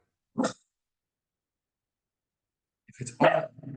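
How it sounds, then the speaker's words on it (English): A pet dog barks indoors at night, two short, sharp barks from a distance separated by a few seconds of silence, fairly faint overall. "My dog is going absolutely ballistic tonight, and it's really distracting me"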